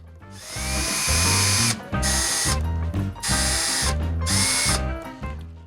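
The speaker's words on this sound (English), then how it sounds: "Then I still need to countersink those so that the screws sit in" Power drill countersinking screw holes in a semi-hollow guitar body, whining up loudly in four sustained bursts with short pauses and a ratcheting pitch as it bites, no speech.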